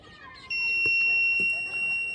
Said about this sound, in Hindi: तो जैसे ही हम अपने वाटर टैंक अलार्म को पावर देते हैं तो एक इस तरीके का इंडिकेशन आपको मिलता है